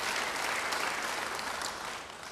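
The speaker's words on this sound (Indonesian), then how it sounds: "Beri tepuk tangan yang baik buat dia." Church congregation applauding, a continuous wash of many hands clapping at moderate distance that eases slightly toward the end, without speech.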